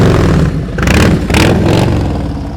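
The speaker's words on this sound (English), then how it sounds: "you can hear when his throttle goes down" A motorcycle engine revs hard as the throttle opens during slow-speed riding practice, loud and close, with two rising surges over a continuous rumble.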